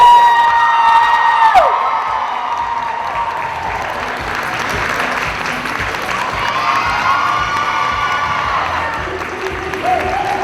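A crowd at a cosplay awards ceremony applauds steadily with scattered cheers and whoops, the clapping dense and sustained throughout, with some voices and a whistle-like tone near the start.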